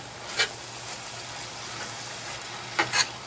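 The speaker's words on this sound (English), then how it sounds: "It's simmering really nicely right now" Stuffed sweet potato filling simmering in a pan, a soft, steady bubbling hiss with a few brief louder pops and stirs, close and quiet, with no voices.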